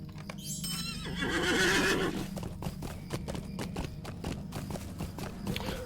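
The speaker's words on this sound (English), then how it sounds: "Grab a horse." A horse whinnies loudly near the start in the video game Lord of the Rings Online, followed by a run of rhythmic clip-clop hoofbeats over a low background hum.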